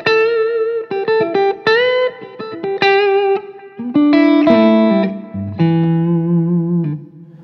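A clean electric guitar rings out through a Berkshire Grape Ape amplifier, playing chords and single notes with a lush reverb tail, no voices.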